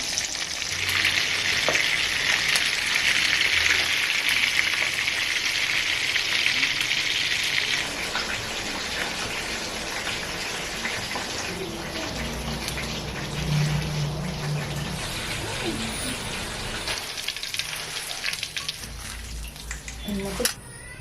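Rava-coated fish fries in hot oil with a steady, loud sizzle that runs throughout, brightest in the first several seconds and then settling into a softer crackle, while a voice talks quietly underneath.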